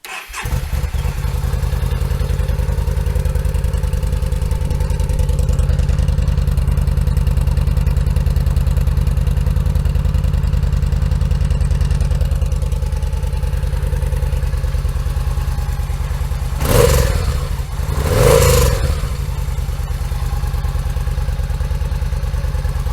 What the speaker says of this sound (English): here's the stock exhaust. This is going to be a cold start